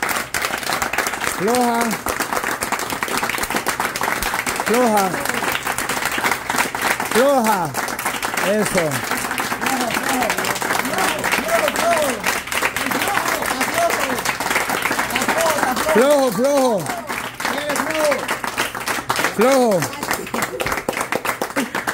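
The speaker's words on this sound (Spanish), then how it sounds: "Hasta que la chiquilina aplauda fuerte." A girl claps in short bursts, several quick rounds spaced apart, under continuous talk and coaxing voices nearby.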